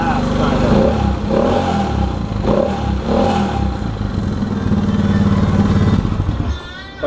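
A motorcycle engine held at a high idle after stalling, a loud, close, steady mechanical clatter with a slightly uneven, hiccupy rhythm that fades out near the end, a voice talking over it.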